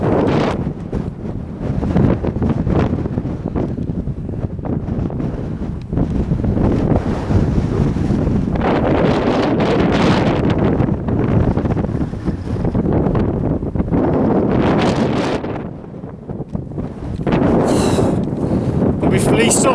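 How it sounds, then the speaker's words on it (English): Strong gusting wind buffets the microphone on an exposed Welsh hilltop near Moel Arthur, a loud continuous roar that swells and dips in waves throughout. "Whoa! The wind!"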